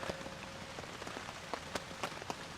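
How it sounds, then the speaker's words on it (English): Heavy rain drums on a blue Home Depot tarp at a campsite in a huge rainstorm, a dense steady patter with distinct louder drops popping out at irregular intervals, faint and distant in level. "the rain doesn't show any signs of stopping"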